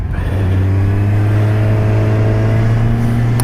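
A 2017 Kawasaki Z1000 motorcycle engine revving, a loud, steady drone with strong low harmonics held close throughout.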